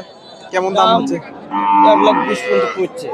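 A native dairy cow lows twice at a busy cattle market, each moo long, loud and close, the second stretching over a second.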